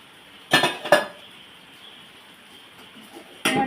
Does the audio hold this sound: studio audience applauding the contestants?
no